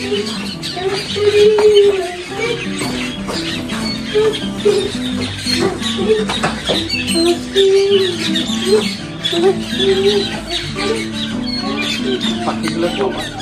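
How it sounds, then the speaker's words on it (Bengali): Birds call again and again in the forested hills of Sittong, with short chirps and squeaks scattered over a steady outdoor background. "পাখি দেখুন কত সুন্দর, মানে কলর অফ করে চলেছে"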